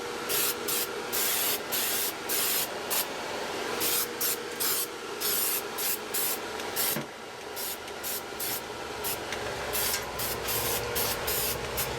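Zinc primer is sprayed onto the bare metal floor pan of a car in a rapid series of short, close aerosol hisses, with brief gaps between bursts.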